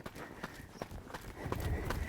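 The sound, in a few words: horse hooves clip-clopping while being ridden on a circle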